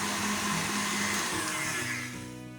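An electric mixer whisks meringue at full speed, a loud, steady motor whine and whirr close by that eases slightly near the end, with no talking.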